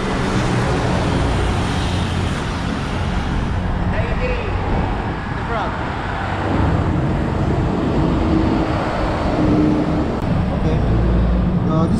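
Highway traffic streaming past a roadside motorcycle shop in Calamba, Laguna, a steady loud roar of cars and buses passing close by, with voices talking over it.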